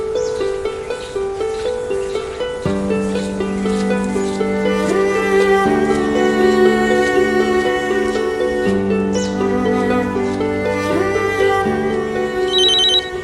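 A telephone rings loudly and steadily, its bright repeating trill carrying on unbroken with a sustained electronic melody behind it, and no voices break in.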